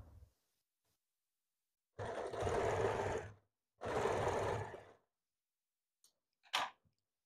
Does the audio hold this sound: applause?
no